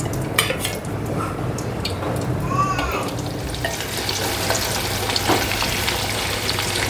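Potatoes frying in hot oil for a dried bombil biryani, with a steady sizzle running throughout, joined by occasional clinks of a utensil against the pan.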